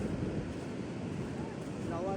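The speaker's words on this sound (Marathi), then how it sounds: "लाटा बघा," Sea waves wash onto a beach along a Karnataka coast in a soft, steady rush, with wind buffeting the microphone and a voice speaking over it.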